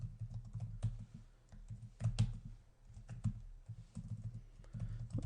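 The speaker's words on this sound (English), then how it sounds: "And I'll just type it in real quick." Rapid typing on a computer keyboard during network switch configuration, a steady run of close, crisp key clicks with a few heavier strokes, over a low background hum and no talking.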